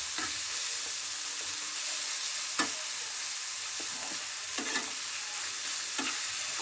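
Tomato with ginger garlic paste frying lightly in oil, a continuous close sizzle broken by several scraping stirs at irregular intervals.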